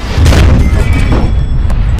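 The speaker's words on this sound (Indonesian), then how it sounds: "Pertempuran dibuka dengan tembakan senapan anti-tank dari tentara Uni Soviet, dan tidak lama dibalas oleh tank tentara Jerman." A Soviet anti-tank rifle and a German tank cannon fire in a war-film battle: loud, deep booms and blasts pound close by in quick succession over a constant rumbling roar.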